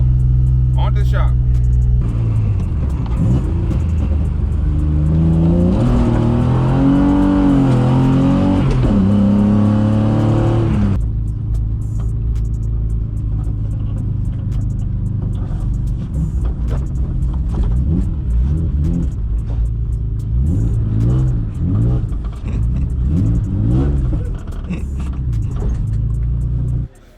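Loud, solid-mounted E36 race car engine rumbling and revving up close, with a harsh rising roar mid-way, then a steady droning idle with heavy low vibration; talking is mixed in.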